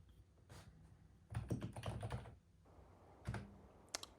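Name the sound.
ITX-Llama hard drive clicker emulating disk activity while booting DOS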